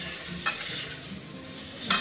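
Onions fry with softening tomatoes in a pan for halwai-style aloo sabji, a steady close sizzle broken by two short stirring scrapes.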